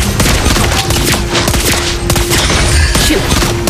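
Loud, dense gunfire from the marksman hero Lesley in Mobile Legends, rapid shots layered over game music and effects with a steady tone, continuous and close throughout.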